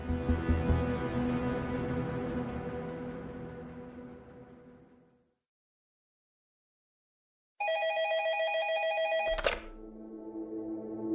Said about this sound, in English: Late that night, Short was sitting at his desk in his office when his phone rang